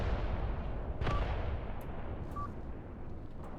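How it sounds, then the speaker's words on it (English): Heavy artillery shells from a barrage in the Graviteam Tactics war game boom continuously in a dense, rumbling roar, with a sharper blast near one second and a fainter crack later, loud and without speech. "This has to be some kind of large on-call artillery."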